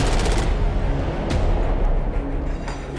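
Loud machine gun fire on a film set, rapid repeated bursts crowding close together for a few seconds.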